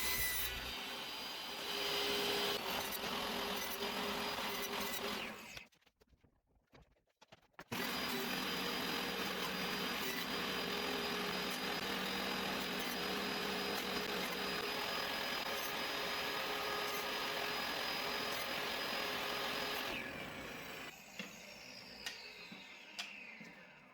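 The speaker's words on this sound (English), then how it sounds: "I'm just cutting out all my pieces here at the table saw." Table saw cutting quarter-inch plywood pieces, a loud sustained whine with the ripping of the blade through wood, broken by a short pause before the cutting resumes and then tapers down near the end.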